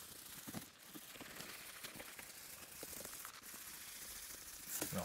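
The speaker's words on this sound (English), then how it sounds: "We're gonna sand all the impurities out of this." Hand sanding of a foggy plastic car headlight lens, a dense, steady scratchy rasp with faint clicking strokes that runs close and continuous throughout, with no voices.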